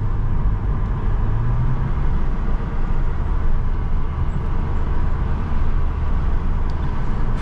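Cupra car engine running on a cold start to warm up, a steady low, dense rumble held at even volume throughout with no talking.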